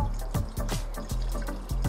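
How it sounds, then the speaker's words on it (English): Echo Power Fuel is poured from a can into the fuel tank of an Echo PB-770T backpack blower, a close, steady liquid trickle broken by a few soft glugging bursts, with no talk. "Just take the lid off and then pour it into the tank of the backpack blower."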